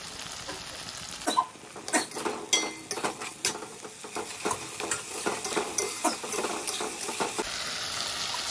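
A metal spoon scrapes and stirs spice paste of ginger, garlic, cumin and chilli with tomato, salt and turmeric in a pan, irregular clattering strokes over a soft sizzle, close and moderately loud.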